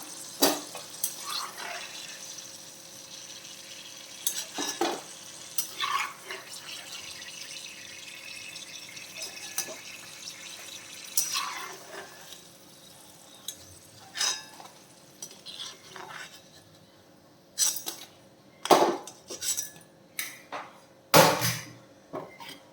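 Mango pieces fry in hot oil for pickle, a steady low sizzle running throughout while a utensil stirs and scrapes the pan with scattered metallic clinks that grow louder and more frequent toward the end.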